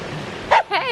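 A puppy on a beach gives a couple of quick, close yips over a steady rush of surf and wind, all within under a second.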